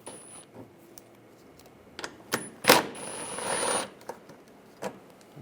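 Rapid ratchet clicks from an 8mm socket removing shield bolts on a 2006-2009 Mercedes-Benz E350: scattered single ticks around one longer, louder burst of ratcheting, heard up close with no talk.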